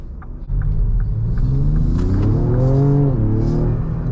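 A 2026 Ford Explorer ST pulls hard in sport mode with traction control switched off, its engine note climbing steadily from a low rumble into a loud, rising rev that holds strong up close before easing slightly near the end.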